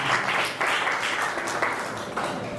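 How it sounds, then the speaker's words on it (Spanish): Audience applause at a conversatorio on artistic history and expressions of Yanga, a steady wash of clapping with no voices, holding fairly even for under three seconds. "Un aplauso."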